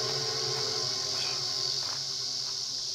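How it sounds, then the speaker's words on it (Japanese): Long, steady buzzing drone of cicadas on a cool summer mountain pass at Ningyo Pass, Japan, holding continuously at moderate loudness with no voices over it. "セミの鳴き声も、普通のセミじゃなくて、ずーっとね、ジーっていう鳴き声がするんですよね。"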